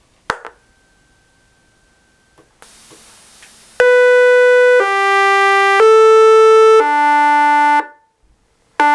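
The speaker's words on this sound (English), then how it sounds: "time for a quick Westminster test." A homemade miniature HPSS-16R electronic siren plays the Westminster chime tone, a sequence of loud, harsh, sustained tones stepping through the melody after a click and a brief faint whine.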